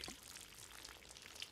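Bowl contents poured onto the ground in Project Zomboid, a soft wet splashing hiss that runs steadily for a moment with a few small drip-like ticks, close and fairly quiet.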